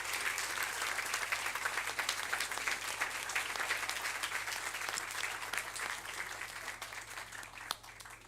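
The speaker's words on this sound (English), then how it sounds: "Let's give these folks a big round of applause." Sustained applause from a seated audience after a team project presentation, steady dense clapping filling the room throughout before tapering slightly at the end.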